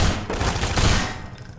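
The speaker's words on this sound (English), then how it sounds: "I can shoot them through the grate." Rapid gunfire in the virtual reality game Half-Life 2, a loud dense burst of shots lasting under two seconds and fading at the end.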